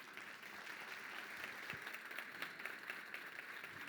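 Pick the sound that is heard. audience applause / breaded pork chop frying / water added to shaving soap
audience applause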